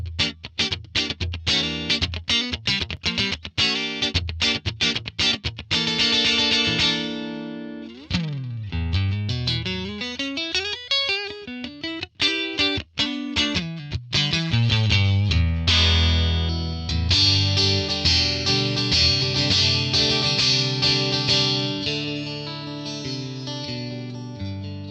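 Stratocaster electric guitar through a ToneX ONE Super Reverb amp capture, with fast picked runs, bends and sustained chords, bright and loud with reverb, played alone without talk.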